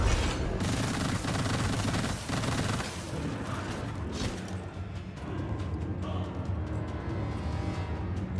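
Sustained SMG fire in the game Immortal: Unchained sounds as a dense, loud rattle of rapid shots, thinning out toward the end with scattered sharper reports.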